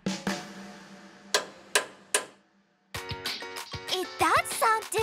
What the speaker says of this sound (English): the procedure involves hitting each bolt and listening to the sound it makes to see